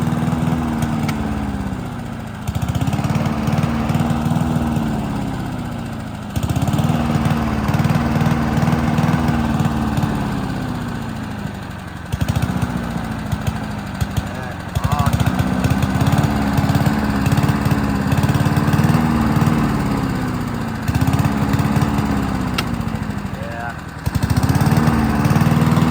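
A Honda lawn mower engine runs steadily after a carburetor swap, a loud close drone that surges and dips in repeated cycles as it idles; a person talks briefly over it.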